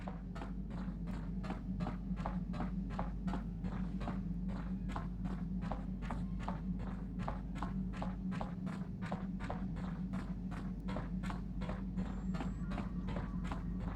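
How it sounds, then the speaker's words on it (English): Steady, evenly paced footsteps echo from a cargo hold in a video game, each step a crisp hollow thud repeating over a constant low hum. "You hear the echoes of footsteps coming from the direction of the cargo hold."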